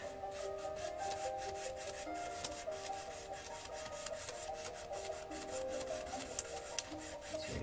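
Paintbrush strokes brushed up and down and crisscross across a wet-on-wet painting surface, a continuous rhythmic rubbing with quick repeated strokes, close and steady over several seconds.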